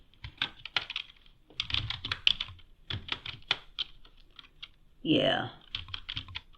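Typing on a computer keyboard, with bursts of rapid close key clicks separated by short pauses and a brief spoken word partway through.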